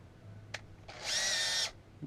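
Power drill driving screws aboard a boat, a short high whirring burst of about three-quarters of a second after a quick click, close and fairly loud against quiet background.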